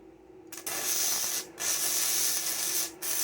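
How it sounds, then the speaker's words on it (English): Bursts of loud crackling hiss from an electric welder joining metal for a homemade tandoor build. Two bursts, each over a second long, are separated by short pauses, and a third begins at the end. "You put the earth on one side and weld it."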